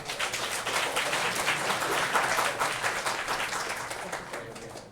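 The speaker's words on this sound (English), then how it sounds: "So please give a round of applause to Tarun." A conference audience at PyCon Hong Kong claps for a speaker, with steady dense clapping at moderate volume that tapers off toward the end over five seconds.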